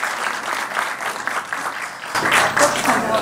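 A crowd applauds with steady, dense clapping that swells louder in the second half, while voices shout over it.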